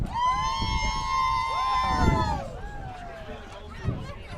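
Crusader fans cheer at a high school football game against Memorial, a broad roar of crowd voices with whistles and shouts that swells and fades over several seconds.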